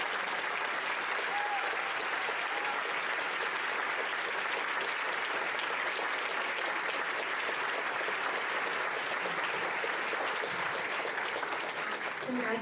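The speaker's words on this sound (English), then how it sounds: "would you give a huge round of applause for this first group?" A crowd at a sixth-grade promotion ceremony applauds the first group of students, loud and continuous, with dense clapping that holds steady throughout and faint voices mixed in.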